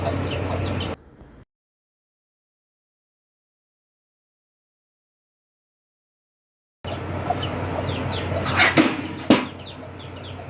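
Hens cluck nearby, with a rustle and flap of wings, cut off by a long stretch of silence before clucking and scuffling resume.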